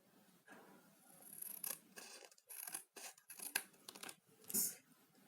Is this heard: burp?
no